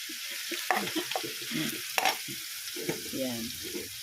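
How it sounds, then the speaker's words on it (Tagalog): Bagoong alamang shrimp paste sautéing in a wobbly wok gives a soft, low sizzle under intermittent talking and light stirring, fairly quiet and close. "Gigisa-gisa lang po natin yan"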